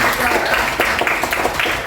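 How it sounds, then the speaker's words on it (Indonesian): Classroom applause from pupils during a lesson, a short burst of clapping with a few louder rhythmic claps standing out over a noisy, close room, with voices mixed in. "Berikan tepuk tangan dulu"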